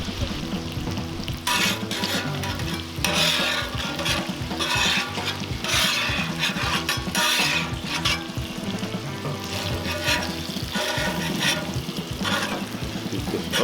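Bacon frying on a Cuisinart 360° griddle, a loud, continuous close crackle and spatter of fat that swells and ebbs in waves, with occasional scraping of a utensil across the flat metal surface.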